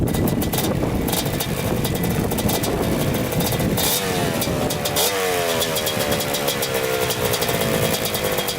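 Kawasaki Tecate 4 250cc two-stroke quad engine revving loud and close while riding, a raspy continuous drone rising and falling in pitch with no talking.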